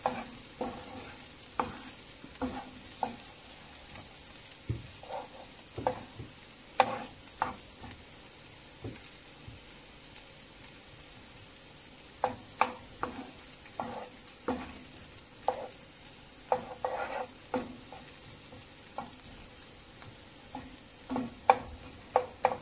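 Pork hock browning in a non-stick pan for paksiw na pata, with a steady low sizzle broken by frequent sharp clicks and scrapes of stirring. No voices.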